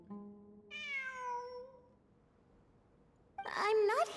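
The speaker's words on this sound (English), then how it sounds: "I'm not hearing things. It really is a cat." A cat in the video game Genshin Impact lets out a long, clear meow, then a second, sharper meow after a quiet pause. The sound is fairly faint, with no voices.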